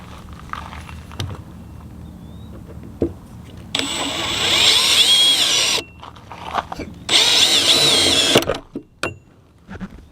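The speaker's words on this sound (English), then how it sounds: "I got the drill on reverse." A power drill run in reverse during small repairs on a Ford van gives two loud, steady whirring bursts of about two seconds each, separated by a short pause and framed by quieter workshop clatter.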